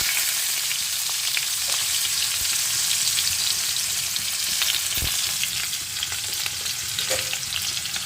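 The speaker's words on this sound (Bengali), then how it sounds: "এখানে আমি কাঁচা লঙ্কা এবং পেঁয়াজ কেটে দিয়ে দেবো" Chopped green chillies and onion fry in a radhuni seed tempering for a Bengali mustard rui dish, a loud, even, continuous sizzle up close with occasional soft knocks of a spatula.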